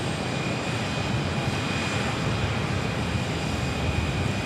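Heavy airliner at Sky Harbor Airport, a steady broadband engine roar with a thin high whine, loud and unbroken throughout.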